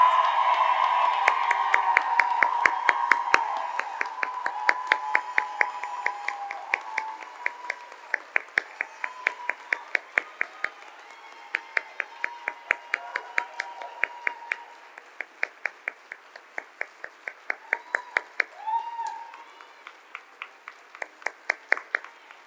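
An audience applauds service pin honorees at an evening workplace recognition celebration; the clapping starts as a dense, steady crowd applause, then thins into scattered sharp claps that fade and pick back up over about twenty seconds, with no talking.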